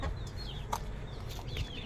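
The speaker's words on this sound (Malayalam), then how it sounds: "ഇത് നാടൻ കോഴിയും കരിങ്കോഴികളും അടങ്ങിയിരിക്കുന്ന കുഞ്ഞുങ്ങളാണ് എല്ലാവരും." Native hen chicks and black Kadaknath chicks make soft, scattered chirps and clucks at low volume against quiet farmyard background noise, with no talking.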